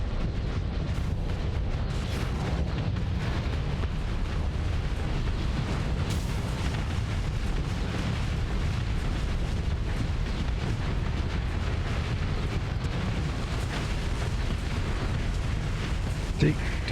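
Long-range ion cannon fire and explosions in the space combat game Starsector form a dense, unbroken wall of rumbling blasts and crackling impacts that stays loud throughout.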